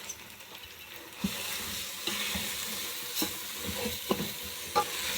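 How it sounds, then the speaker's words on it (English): Pilau rice in a pot is gently stirred over the heat, giving a faint continuous sizzle broken by soft scraping knocks of the spoon at irregular intervals, with no talking. "So you're mixing like this. Gently mixing like this."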